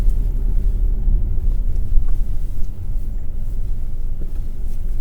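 A car is driven during a driving lesson, giving a steady low engine rumble and road drone from inside the cabin, close and continuous with slight swells as it accelerates.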